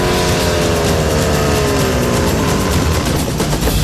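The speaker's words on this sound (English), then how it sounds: "They've got to really gun that pump engine if they want enough pressure to drive 2 hoses." A fire pump engine revs hard and loud under heavy load while driving two hoses, a sustained strained roar with rising and falling pitch sweeps throughout.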